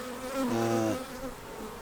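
Steady droning buzz of many honeybees at a hive, a continuous hum that swells slightly in the middle, close and moderately loud with no talking.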